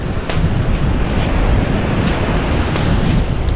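Sea waves and wind at the shore: a constant, loud rush of surf and blustery wind noise fills the whole stretch, with no voices.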